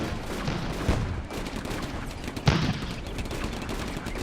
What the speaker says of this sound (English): And they're aiming the machine gun, which is the right thing to do.